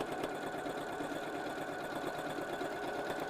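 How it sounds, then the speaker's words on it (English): A sewing machine runs continuously at a steady fast pace while stitching binding onto a quilt, a close mechanical whir and rapid needle chatter with no speech. "I'm just going to sew"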